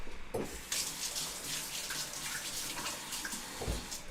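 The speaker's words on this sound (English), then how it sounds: "I'm going to wash my hands" Tap water runs steadily into a sink as hands are washed beneath it, a continuous close splashing hiss with a few brief thumps and shifts in the flow, no talking.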